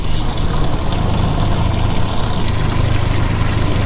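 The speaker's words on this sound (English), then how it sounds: "now we'll turn the aerator" The livewell aerator pump on a 16-foot SeaArk McBass 160 bass boat runs with a steady, dense whir and churning water rush, loud and unbroken, with no talking.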